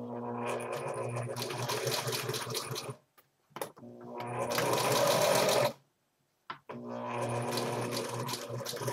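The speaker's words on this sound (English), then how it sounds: "you're going to sew almost all the way around" A sewing machine stitching a fitted cloth diaper runs in three loud, close bursts of rapid mechanical chatter, separated by short silent stops with a brief stutter between them.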